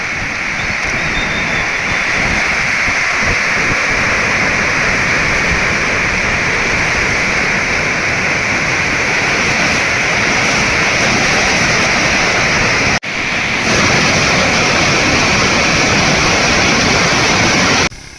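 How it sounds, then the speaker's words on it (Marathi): A small stream in full spate near a village in Khed, Pune, roars with a dense, loud, continuous rush of water, close by and steady throughout, with no talking. "आपण पहा या ओढ्याला किती पाणी आले"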